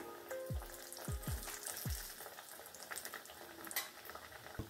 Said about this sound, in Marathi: अशा प्रकारे हे पण तळून घेऊया आपण.